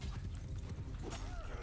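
Cavalry horses charge at a gallop in the medieval battle game Mount & Blade II: Bannerlord, a dense, continuous drumming of hoofbeats amid loud battlefield din.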